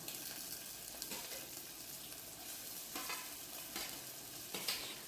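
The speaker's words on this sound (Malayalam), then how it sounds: "അതിനുശേഷം നമുക്ക് വെളുത്തുള്ളി ഇട്ട് കൊടുക്കാം കേട്ടോ" Garlic sautéing with shallots in a pan for a Kerala-style kakka thoran, a soft steady sizzle close by with a few scraping stirs of the spatula and no voices.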